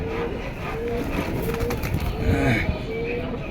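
Pigeons cooing in a loft, soft repeated low coos over a steady background hum, close by, with people talking nearby.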